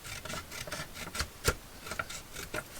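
Paper tag being trimmed along one side, a series of soft, close rasping snips and rubs, with a few sharper cuts standing out, fairly quiet and with no talking.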